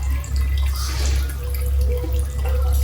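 Water trickles and drips as it is added to chutney in a kitchen, a short, close pour over a low steady hum.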